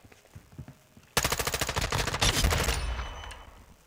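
Machine gun fire in Call of Duty: Modern Warfare 2 erupts after a quiet, faintly noisy start, with a sustained rapid burst of loud, closely spaced shots that then tails off into echoing decay.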